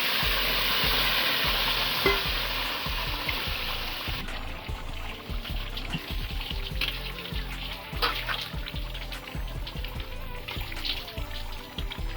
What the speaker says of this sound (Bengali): পেঁয়াজ ভাজা লাল লাল করে ভাজা হচ্ছে।